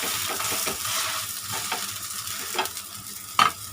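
A besan chilla is flipped and pressed down in a hot pan, sizzling steadily throughout, with a few sharper scrapes and taps from the spatula near the end.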